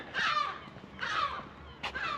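A seagull flying overhead at Burntisland gives three loud, harsh calls, two longer cries followed by a short sharp one, ringing out clearly over faint background noise.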